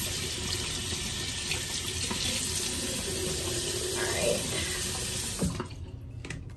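Water runs from a bathroom tap while someone rinses their face, a close, steady splashing rush that cuts off abruptly near the end.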